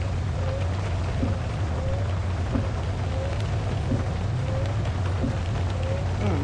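Heavy rain in the driving game Minibus Simulator Vietnam, a steady loud hiss with a low rumble underneath, constant throughout and with no talking.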